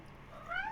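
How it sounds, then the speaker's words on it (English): Several cats meowing close by, a rising and falling cry swelling louder near the end of a short moment over a faint room hush. "I've got 4 naughty cats behind me"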